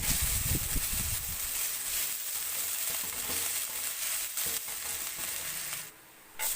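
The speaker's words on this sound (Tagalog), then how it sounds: "Ngayon naman ay mag-saute ng garlic" Garlic sautéing in a pan gives a loud, continuous frying hiss, with some stirring and rustling, before a brief drop near the end.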